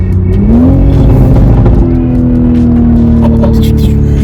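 A 2020 Toyota GR Supra with a BMW B58 engine revs up under throttle, a loud, close engine tone climbing and holding steady; the promised crackles and pops are not clearly picked out over the drone.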